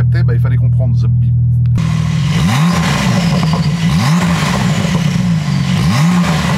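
A loud Porsche engine revs repeatedly through the exhaust, rising and falling in three or four sweeping pulls under a constant roar, after a brief stretch of talk.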